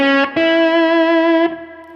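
Slide guitar in the first octave of the fretboard rings out with a bright, sustained tone that is re-struck once early, holds, then shifts and fades toward the end, close and unaccompanied.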